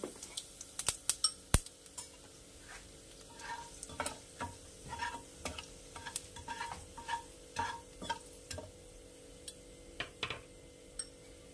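Whole cumin seeds fry in hot oil for a Bengali snakehead fish curry (shol macher rasa), giving soft, steady sizzling broken by scattered sharp crackles and pops, close up, with no one talking.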